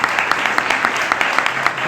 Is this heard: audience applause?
yes